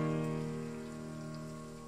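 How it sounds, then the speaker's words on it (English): Rain falling at the opening of a song, a soft steady patter under sustained low musical tones that fade slightly, no talk. "You got a little rain song going on in the back."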